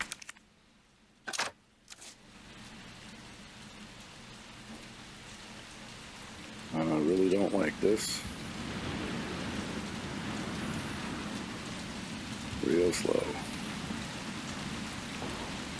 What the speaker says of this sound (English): hope the sound of the rain covers up our footsteps